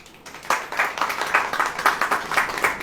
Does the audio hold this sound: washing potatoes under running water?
no